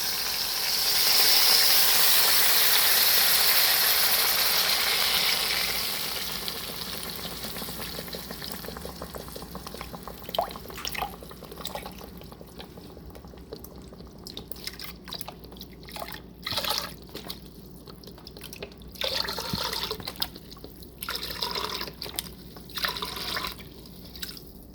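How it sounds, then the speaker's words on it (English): Four cups of beef stock pour into a cooking pot, first as a steady loud rushing stream, then breaking into irregular splashes, drips and sizzling bubbles as the flow tapers off. "Here's our 4 cups of beef stock."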